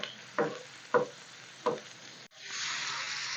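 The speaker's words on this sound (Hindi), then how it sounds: "कलेजी को हमने इधर सिर्फ 5 मिनट के लिए फ्राई करना है" Chicken liver sizzles and fries on a tawa, with three sharp knocks of a spoon stirring it, then the sizzle swells loud and steady near the end.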